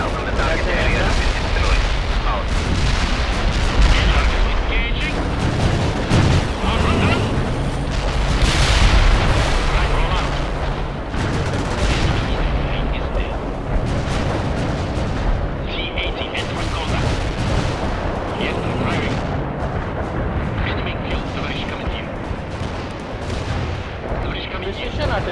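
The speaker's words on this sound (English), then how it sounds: "Precision artillery." Precision artillery strike in the real-time strategy game World in Conflict: a barrage of heavy booms and rumbling blasts rolls on loudly and continuously, with scattered sharper shell impacts and voices talking over the bombardment.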